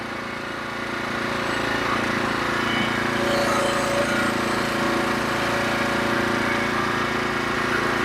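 The hydraulic log clamp on a Norwood HD36v2 sawmill operates with the engine running, a loud steady mechanical drone that swells after the first second and holds throughout with no talk.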